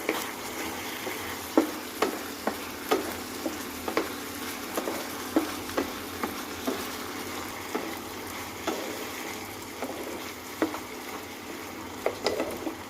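Fried mushrooms being stirred in a pan for chili mushroom, a steady frying sizzle broken by regular scraping knocks of a spoon against the pan, close and moderately loud, with no talking.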